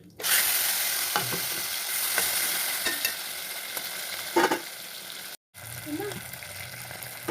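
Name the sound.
prawns frying in oil with fried jackfruit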